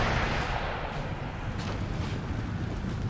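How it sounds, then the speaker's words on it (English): Napoleonic-era cannon artillery fire in a Napoleonic Total War 3 4v4 battle, heard as dense, booming, rumbling blasts that overlap into a continuous low roar. "That artillery is going to be quite a problem."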